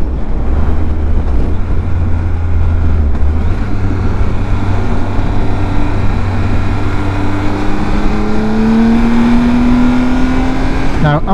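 A motorcycle engine holds a loud, steady drone at around 60 while riding toward a corner, and its pitch rises smoothly near the end as it builds speed.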